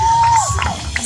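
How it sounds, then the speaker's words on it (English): A crowd at a county fair martial arts performance cheers and shouts in a short, loud, close burst, with a whistle-like tone sliding through the noise. "You guys, give him a round of applause."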